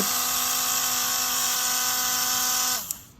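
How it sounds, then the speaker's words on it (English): A $20 Dremel rotary tool fitted with a small sanding disc, used to clean wheel well openings, runs at a steady high-pitched whine for nearly three seconds and then spins down to a stop. "it's a pretty powerful little Dremel"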